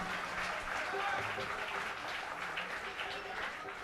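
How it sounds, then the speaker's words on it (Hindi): An audience at a live nostalgic music show claps steadily and fairly loudly for the whole stretch, with a voice talking faintly underneath. "अशोक भाई कह रहे हैं कि तालियां और जोरदार बजनी चाहिए"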